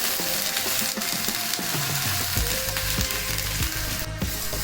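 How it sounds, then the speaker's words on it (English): Onions and spices sauté in a pan for Bengali fish kalia, with a dense, loud, continuous sizzle and intermittent spatula knocks and scrapes close by, and no talk. "So now the onion is nicely fried and its color also changed to golden brown."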